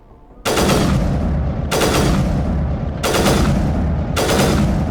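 Heavy weapon fire in Mass Effect rings out in four loud, sustained bursts separated by brief gaps, each a dense roaring volley with little tail between them.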